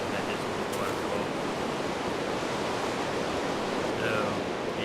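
Steady rushing water from a Minecraft waterfall, a broad continuous hiss holding level throughout with no breaks, alone and fairly loud.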